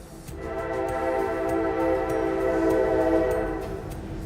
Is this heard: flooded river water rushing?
no